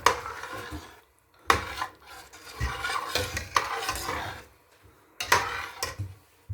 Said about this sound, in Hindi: इसको चम्मच की मदद से अच्छे से मिक्स करेंगे